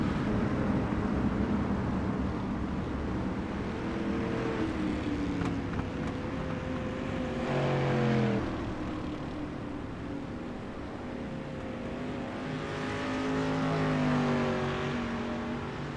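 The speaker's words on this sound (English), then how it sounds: "there comes our safety truck flying around" Safety truck driving around a race track during a caution in a Pro Street Stock series race, a steady engine drone with rising and falling pitch as it passes, moderately distant with a busy background.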